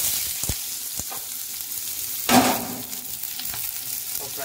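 Chopped onions hitting hot oil with cumin for Maggi noodles, a steady close sizzle with a sudden louder burst of frying as they go in, plus light stirring clinks.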